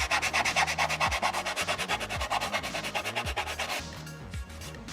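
Rapid rhythmic back-and-forth sanding strokes on a Scout Trooper prop helmet piece, loud and close, a gritty rasping pulse that slows and fades out near the end.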